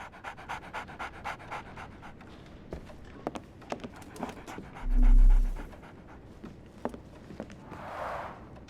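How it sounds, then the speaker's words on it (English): Rapid, rhythmic dog panting in the Sherlock Holmes: The Awakened video game, close and steady throughout, with a brief low thud midway and a soft hiss near the end. "So, Barnes has a dog now."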